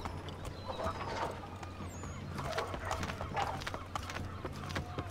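A horse galloping in Assassin's Creed III Remastered, rhythmic hoof clip-clop under a low rumbling game soundscape, with a voice speaking faintly over it.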